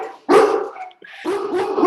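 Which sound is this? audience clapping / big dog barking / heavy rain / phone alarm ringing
big dog barking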